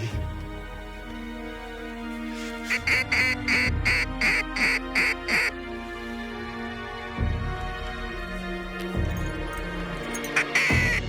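Ducks quack in quick repeated bursts during a duck hunt in fields in Quebec, a rapid series of loud nasal calls against a steady background, with a few more scattered quacks later.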